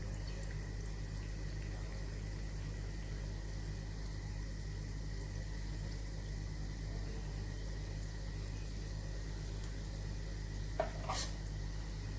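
Spoonfuls of banana batter dropped into hot oil in a pan, a soft, steady frying hiss with faint crackle, quiet and unbroken, with no voices.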